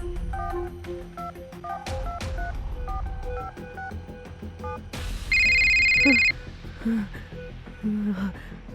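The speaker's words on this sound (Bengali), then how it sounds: "বহু কষ্টে তাদের শাসন করে রঞ্জিনী ফোন করল।" A rapid series of telephone keypad tones rings out as a number is dialed, followed by a steady electronic ringing tone.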